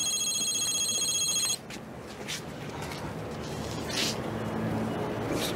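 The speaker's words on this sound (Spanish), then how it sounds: "Peter, conteste el teléfono, por favor." An electronic telephone ring at a home sounds as a steady, bright repeating tone for about a second and a half, then cuts off, leaving quiet room noise with faint movement.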